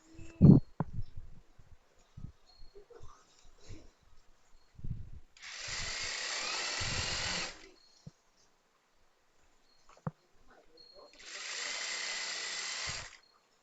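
Sewing machine stitching the side seam of a nighty in two steady runs of a few seconds each, close and even, separated by quiet handling of the fabric.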